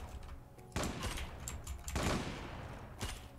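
Bursts of gunfire from a gun in the Zula online shooter, three loud volleys with short pauses between them, close and sharp with no talk over them.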